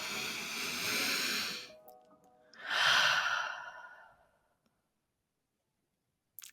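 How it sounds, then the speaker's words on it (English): A deep breath taken close to the mic, a long airy inhale and then a slower sighing exhale, followed by near silence. "let's take a deep breath"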